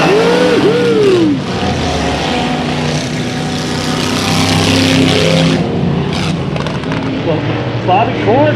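Hardtop race cars roar through a heat race at Bakersfield Speedway. Loud, close engines rise and fall as cars pass, with revving and shifting pitch, and a voice is mixed in over the noise.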